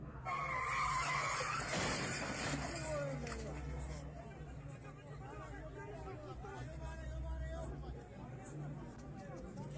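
Cars collide on a fog-bound motorway: a loud skid and crash burst early, then traffic noise with squealing tires follows, while voices murmur in the background.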